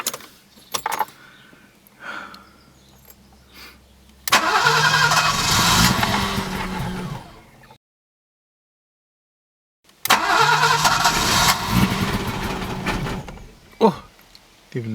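A long-dormant Alfa Romeo 90 sedan cranking and catching, its engine firing and revving briefly before cutting out, then a second crank that catches and revs again, with faint talk and jangling keys between attempts.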